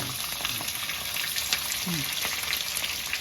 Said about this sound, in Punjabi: ਲੋ ਜੀ ਭੁੰਨ ਗਿਆ ਪਿਆਜ਼ ਸ਼ਿਮਲਾ ਮਿਰਚ